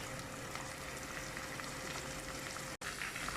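Onions frying in a pan until lightly browned give a constant, soft sizzle and crackle with a slight bubbling quality, steady from start to finish apart from one momentary dropout near the end.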